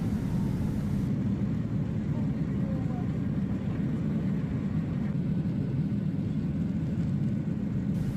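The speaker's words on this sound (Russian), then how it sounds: "И вот наш самолет в положенное время плавно отрывается от взлетно-посадочной полосы, набирает высоту и берет курс на Москву." Passenger airplane taking off from Sochi and climbing toward Moscow, heard from inside the cabin as a continuous deep engine rumble and roar, steady and fairly loud throughout with no talk.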